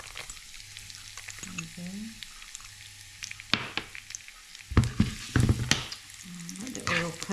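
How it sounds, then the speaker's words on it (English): Oil sizzles softly in a pan as it is turned into garlic chilli oil, a steady frying hiss with louder crackling bursts and stirring, while a person talks briefly. "Let the oil cook a little bit before I put the chilli in"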